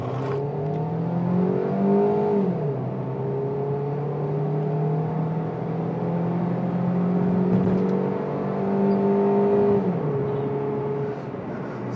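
An automatic Hyundai Grand i10 with an 81-horsepower engine accelerates, its steady engine drone rising in pitch through gear changes, heard from inside the car with no talk.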